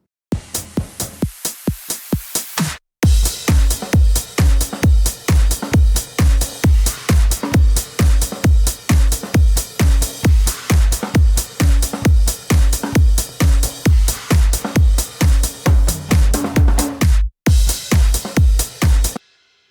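Layered remix drums combining a kick, a snap sample, a crash cymbal and the original drums as texture, heavily limited and saturated; a quick build of hits drops into a loud driving four-on-the-floor groove, briefly breaking near the end.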